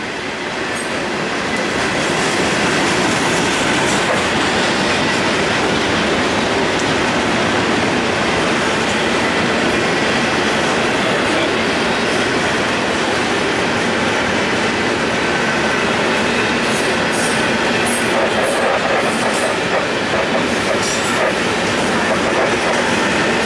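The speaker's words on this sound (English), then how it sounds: "a train down there." A freight train rumbles past steadily for the whole stretch at Folkston, a loud, continuous roar with faint rattling of the wheels and no talking.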